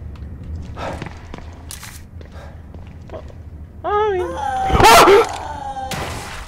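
In the horror game The Evil Within 2, a dog yelps and whimpers in short high cries near the end, along with footsteps and a loud impact, while someone talks.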